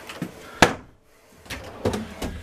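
Large drawers in a 2019 Challenger 37FH motorhome slide and thump shut, with a sharp close knock followed after a brief pause by a few more bumps and rattles nearby, no talking.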